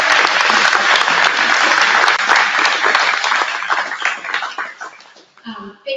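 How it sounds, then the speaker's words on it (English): An audience at a community energy talk on solar and storage gives a loud burst of applause for the speakers, dense clapping that fades out after about five seconds before a voice resumes. "Can we give a round of applause actually for all our fabulous speakers today?"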